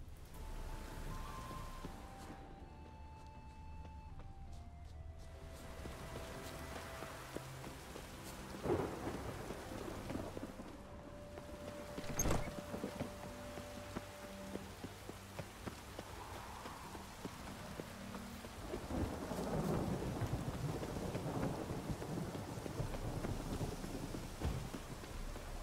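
Steady rainfall and rolling thunder in The Witcher 3, a continuous hiss of rain with several deep rumbles and a sharp crack midway, with faint tonal music underneath.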